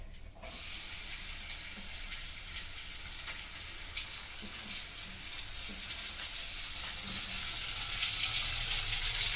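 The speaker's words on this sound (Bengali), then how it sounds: "তেলটা গরম হলে আমি এতে আলুটা দিয়ে দেব।" Potato pieces dropped into hot oil in a pan for a sandwich filling, giving a steady, close, broad sizzle that holds evenly and swells slightly louder toward the end, with no talking.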